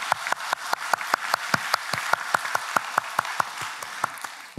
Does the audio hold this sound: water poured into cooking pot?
no